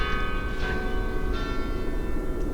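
Church bells ring steadily with sustained, overlapping metallic tones that hum and shimmer, loud and continuous throughout.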